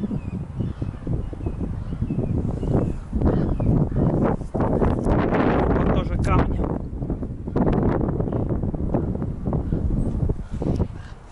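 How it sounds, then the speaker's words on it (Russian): Strong wind buffets the microphone in heavy, low rumbling gusts that nearly cover the whole stretch, with only a few brief lulls, at a cemetery in California. "Ветрено здесь."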